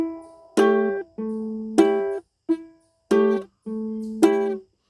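Plucked ukulele chords ring out one by one, alternating strums with short single notes, the harmony stepping downward across several seconds.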